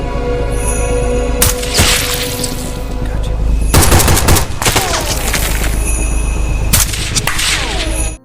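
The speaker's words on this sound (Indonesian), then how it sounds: "Dengan kemampuan menembak yang sangat terlatih, Mikro berhasil menjatuhkan 2 dari 3 musuh yang berada di atas bukit." Gunfire as enemies on a hill are shot in a war film, loud bursts of rapid automatic fire and sharp shots sounding close, over a steady backdrop of battle noise.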